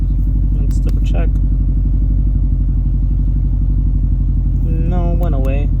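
A car engine with a cylinder 4 misfire idles close and loud in a steady low rumble with an uneven beat, while people talk over it briefly at the start and again near the end.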